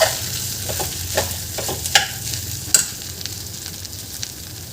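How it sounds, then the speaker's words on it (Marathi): Pigeon peas and rice are stir-fried in a pan for sole bhat, giving a low sizzle under scattered spoon scrapes and a couple of sharper clinks, close up and without speech. "इथे आपण तुरीचे दाणे आणि भात छान थोडा वेळ परतून घेतलेला आहे."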